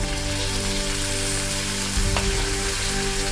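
Cumin seeds and curry leaves sizzle steadily in hot oil as a curd rice tempering, a loud continuous frying hiss that stays close and alone throughout, briefly swelling as more goes into the pan.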